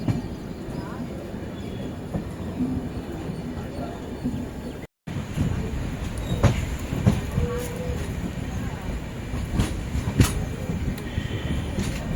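A Kovai Express passenger train rumbles along steadily with rail clatter and occasional high metallic squeals, voices murmuring faintly beneath, with a brief dropout midway.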